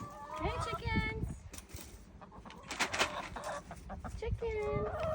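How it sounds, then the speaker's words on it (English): Free-range backyard chickens cluck in short, scattered bursts, faint to moderate and close by, mixed in with a person's voice calling to them outdoors. "She's gonna call the chickens in now because we're done with the chore."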